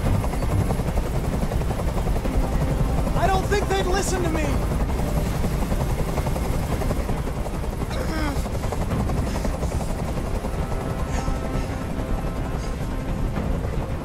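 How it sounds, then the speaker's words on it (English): Constant helicopter rotor drone of a hovering helicopter in the video game Detroit: Become Human, with someone speaking briefly over it partway through. "Tell that helicopter to get out of here."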